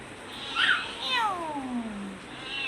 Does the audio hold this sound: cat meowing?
yes